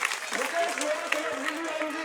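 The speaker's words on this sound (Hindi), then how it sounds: "जोरदार तालियों के साथ लोकप्रिय नेता का अभिनंदन" Crowd applauding a BJP candidate at an outdoor campaign welcome in India: a steady wash of clapping throughout, held under a voice calling out names over a loudspeaker.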